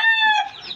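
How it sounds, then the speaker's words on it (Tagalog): A hen on a small poultry farm gives one short, close, clear cluck with harmonic tones that fades quickly, with no talk. "isang inahin at saka isang tacho"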